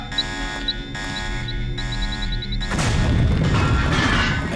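A LAM grenade explosion in Deus Ex blasts open a cell: beeping tones give way to a loud, broad roaring burst that fills the second half and sustains as rumbling debris.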